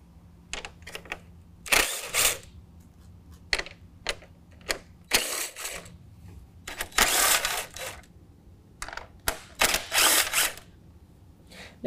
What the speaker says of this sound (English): We've got a total of 4 nuts that need to come off some studs, 2 on each side. We're gonna pull those off with a 10 millimeter.